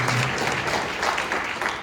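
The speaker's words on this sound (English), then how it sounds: "Let's give yourself a round of applause." Audience at a digital future summit closing session applauds with steady, dense clapping from start to finish, with no break.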